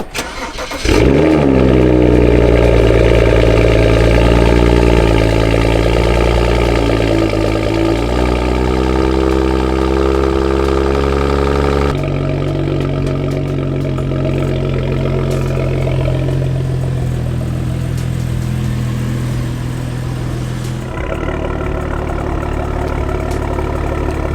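A 2011 BMW E90 335i cold-starts on a chilly day, cranking and catching with a loud rev flare, then settling into a steady, rumbling idle close by.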